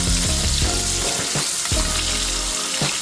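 A floured steak fries in a pan with a steady, loud sizzle and crackle, accompanied by a few low tonal hums and occasional clinks throughout.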